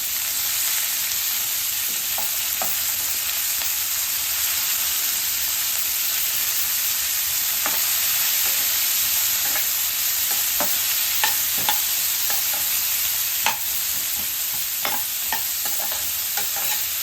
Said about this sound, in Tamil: வெங்காயம் கொஞ்சம் வதங்கினதும் தக்காளி ஆட் பண்ணலாம்.